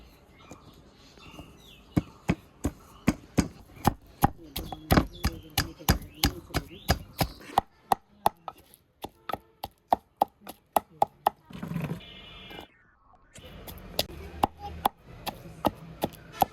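Jujubes pounded in a mortar with a pestle: a steady run of sharp, close wooden knocks at an even beat, broken by a brief pause and a short scraping noise, then more blows.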